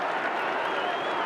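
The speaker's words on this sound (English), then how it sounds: "The crowd trying to urge the Orange back into it here in the latter stages of the first half." A lacrosse stadium crowd at a Syracuse versus Maryland NCAA men's game cheers and applauds for Syracuse, a broad, steady roar with clapping that holds evenly from start to finish.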